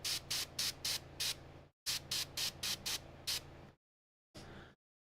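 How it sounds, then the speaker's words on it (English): An airbrush spraying paint onto a Space Marine shoulder pad gives short hissing bursts: five quick pulses, a brief gap, six more, then a single later burst over a low steady hum, close and fairly loud. "I didn't airbrush the shoulder plate on the first Praetorian Guard, but now that I've got it out here, might as well, right?"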